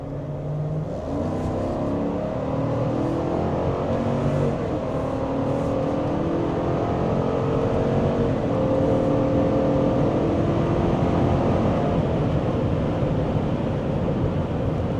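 A 2025 Chevrolet Suburban High Country with a 6.2-litre engine being driven: a steady, loud low engine drone with road and wind noise, rising slightly in pitch as it accelerates, heard from inside the cabin.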